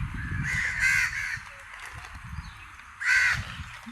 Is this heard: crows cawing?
yes